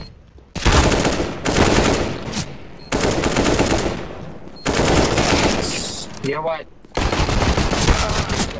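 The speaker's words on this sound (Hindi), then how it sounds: "अरे नाइस ट्राई गोलियां खत्म हो गया भाई गेम में" Bursts of machine gun fire in a tactical shooter video game, four or five loud sustained volleys separated by short pauses, with a brief spoken remark in between.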